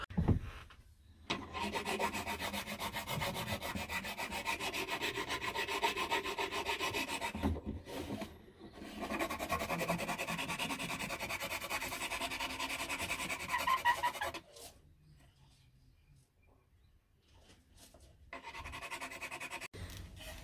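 Continuous close-up abrasive sanding with a rotary tool sanding tip, a steady rasping buzz with brief pauses and a quieter stretch near the end.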